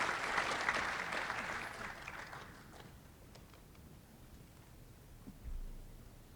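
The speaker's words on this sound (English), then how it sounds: "One more round of applause." Audience applause at a senior honors night for a high school class of 2025, a dense round of clapping that is loudest at the start, thins and fades over several seconds, then ends with a low thump.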